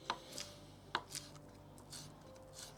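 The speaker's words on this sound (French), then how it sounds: "Et là, je viens couper des petits morceaux." Knife chopping mushroom greens into small pieces on a board, a few sharp close cuts spaced apart with quiet pauses between them.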